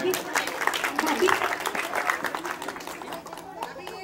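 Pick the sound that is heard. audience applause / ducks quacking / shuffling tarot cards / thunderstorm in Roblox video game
audience applause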